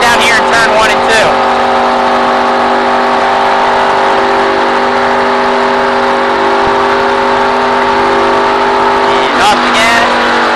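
Race car engine heard from inside the cockpit at speed on an oval track, a loud sustained high-pitched drone with steady harmonics, briefly shifting near the start and again toward the end.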